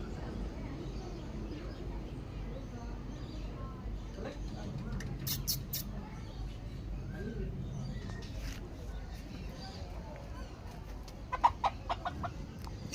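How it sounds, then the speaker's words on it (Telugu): A small all-black long-feathered rooster at a bird park in Trichy, clucking faintly amid a murmur of people talking, with short sharp bird calls breaking through near the end. "ఇది చూడండి మొత్తం నల్లగా ఉంది కోడిపుంజు"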